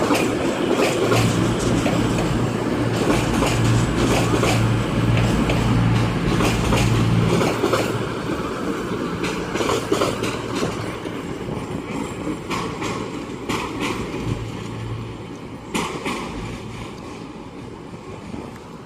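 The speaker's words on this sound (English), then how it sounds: "our final train of the day departing is going to be 221013" A train departs Sheffield station on the Midland Main Line, its loud engine drone and rail clatter close at first, then gradually fading as it pulls away.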